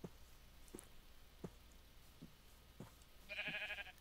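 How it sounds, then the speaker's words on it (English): In a Minecraft-style blocky game, a sheep gives a short, faint bleat near the end after several soft, evenly spaced clicks over quiet background hiss. "Come on, sheep."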